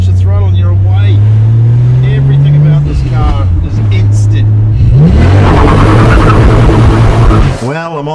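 Toyota Supra MK4 with a noisy differential driving past at close range, a loud engine drone rising into a hard acceleration with dense mechanical roar, then cutting off abruptly near the end.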